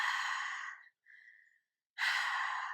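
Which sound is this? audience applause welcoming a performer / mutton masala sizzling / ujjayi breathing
ujjayi breathing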